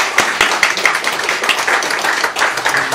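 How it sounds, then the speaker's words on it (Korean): A ceremony audience claps steadily for the launch of a Korean internet broadcast aimed at North Korea. The dense, fairly loud applause runs unbroken for the whole stretch with no voices over it. "큰 박수로 맞아주시기 바랍니다."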